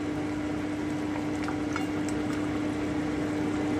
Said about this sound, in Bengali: আমি আঁচ কমিয়ে আরও 5 মিনিট ফুটিয়ে তারপরে নামিয়ে নিচ্ছি।